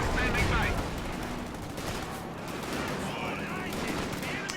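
Anti-infantry strafing run in a real-time strategy game, dense rapid machine-gun fire rattling continuously for several seconds, loud and sustained with a heavier burst at the start.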